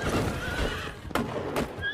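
Horses of mounted troops in a Shaolin film, with a loud nearby whinny and neighing over a busy rumble of movement, then two sharp bursts close together near the end.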